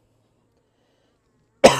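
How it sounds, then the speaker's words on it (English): Silence, then one sudden, close cough right at the end. "I'm sorry for the coughing, guys,"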